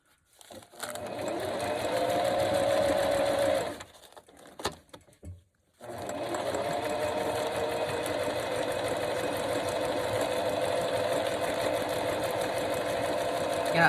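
A sewing machine stitches a seam on a scrap-fabric project bag: a steady mechanical whir for a few seconds, a brief stop with a few clicks, then another long continuous run, close and fairly quiet.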